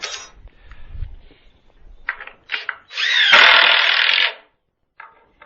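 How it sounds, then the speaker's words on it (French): A power drill drives a screw through a wooden plank into a post while building a vertical vegetable garden; after a few short taps, one loud sustained whir of over a second stops abruptly, followed by faint handling noise. "on va venir visser la planche la plus haut"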